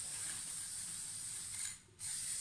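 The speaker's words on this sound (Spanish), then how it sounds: "Y para finalizar le vamos a echar un spray" Protective coating hisses from a spray can onto a decorated jar, a close, steady aerosol spray that stops briefly and then starts again.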